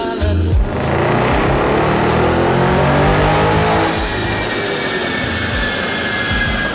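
A tuned Suzuki Swift 1.4 Boosterjet accelerates hard at full throttle, its engine roaring loudly and climbing steadily in pitch through a long sustained pull, close and without talk.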